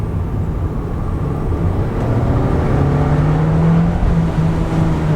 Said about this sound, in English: give her a few more little pulls on the highway here and see how she feels